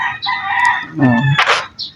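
A rooster crows loudly nearby while chickens cluck around it, a short burst of farmyard fowl calls with no talking.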